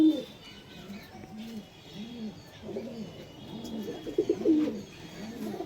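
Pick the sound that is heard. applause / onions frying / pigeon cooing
pigeon cooing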